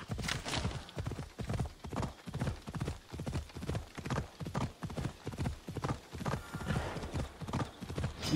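Rapid rhythmic hoofbeats of a galloping horse in Assassin's Creed Odyssey, steady and close, continuing throughout without pause.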